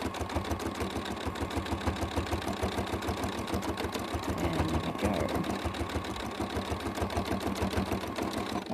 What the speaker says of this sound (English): Can you see the sewing really well